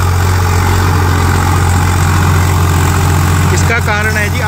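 A Swaraj 843 XM 4x4 tractor engine labours loudly and steadily while pulling a harrow through a field being prepared for wheat sowing after the paddy harvest, a constant deep drone close by with a brief burst of other sound near the end.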